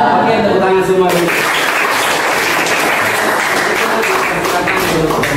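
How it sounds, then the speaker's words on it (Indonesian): Classroom of students clapping hands together in sustained applause, a dense steady patter after a brief moment of speech at the start. "Oke, tepuk tangan semua dulu."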